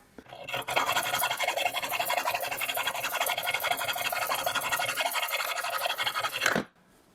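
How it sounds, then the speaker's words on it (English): A hacksaw cutting through metal for a VW Beetle front suspension adjuster, rapid steady back-and-forth rasping strokes close up for about six seconds before stopping abruptly. "Just gonna use the good old hacksaw."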